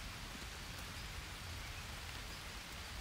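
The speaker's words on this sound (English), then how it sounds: "it's raining, so we're gonna keep having water, so that's good." Steady, even rain falls in the jungle survival game Green Hell, a dense, continuous hiss of drops at a soft, constant level with no voices.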